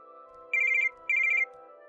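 An incoming call rings on a mobile phone as two short, bright warbling ringtone bursts, clear and close, with no one talking.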